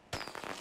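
A cherry bomb goes off in the Assassin's Creed Unity video game, one sharp loud bang followed by a dense hissing, crackling burst that keeps churning briefly.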